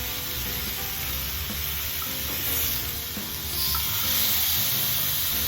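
Salmon fillets sizzle steadily and loudly in a hot pan just after being flipped, a keto Tuscan salmon dish; the bright frying hiss continues unbroken with no talking.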